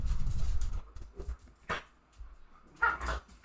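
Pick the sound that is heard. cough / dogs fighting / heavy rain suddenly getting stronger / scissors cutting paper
dogs fighting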